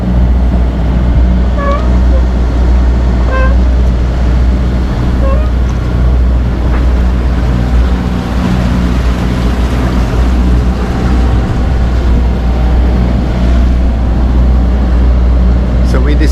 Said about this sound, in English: This is motoring in Svalbard.